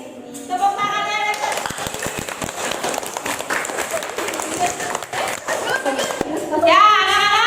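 A classroom full of people claps enthusiastically, dense and continuous, with children's voices chattering and calling over the applause.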